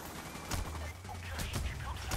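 Gunfire in the video game Payday The Heist: a few sharp shots crack out in quick bursts over a steady low game hum, fairly loud and close.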